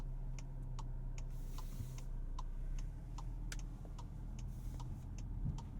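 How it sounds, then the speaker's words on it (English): Turn signal of a 2024 VW Arteon, an all-wheel-drive car, ticking in a steady, even rhythm from inside the cabin, a crisp close click repeating about three times a second over a low idle hum. "Turn signal sound now."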